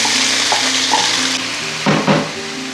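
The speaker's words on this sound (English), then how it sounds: "Fry the onions in a high flame for about 3 to 4 minutes." About four small onions frying in a pan over a high flame, a loud continuous sizzle with brief clanks and stirring scrapes partway through, no voices.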